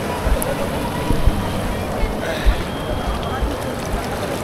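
River water of the Ganga or Yamuna rushes in a strong current at Vrindavan during Ganga Dussehra, a loud broadband wash of flowing water with occasional splashes, with a voice speaking over it.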